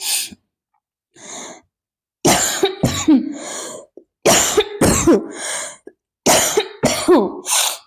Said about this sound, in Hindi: थोड़ी सी खांसी हो रही है